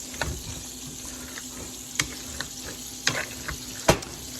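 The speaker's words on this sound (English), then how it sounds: "Now I'm going to go ahead and mash these potatoes" Cooked skin-on potatoes being mashed in a pot, soft squishing with a few sharp knocks and clacks of the masher against the pot, faint and intermittent over a quiet background.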